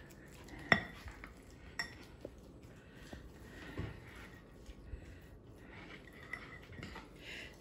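A spoon scrapes and clinks against a bowl while ravioli filling is mixed, soft irregular taps and stirring sounds, close and fairly quiet, with no one talking.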